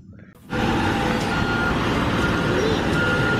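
A loud, steady electronic beeping from a reversing toy concrete mixer truck starts suddenly and keeps going without a break, with a constant motor hum underneath.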